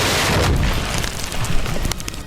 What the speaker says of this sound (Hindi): जब उसमें धमाका हुआ तो पूरी बिल्डिंग भरभराकर जमीन में जा मिली।